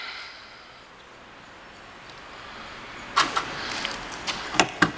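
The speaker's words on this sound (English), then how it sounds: "I'm going to lock up the vehicle." The powered lock actuators on a 2011 Chevrolet Avalanche LTZ lock after a quiet stretch. Several sharp, close mechanical clicks and clunks come in quick succession near the end.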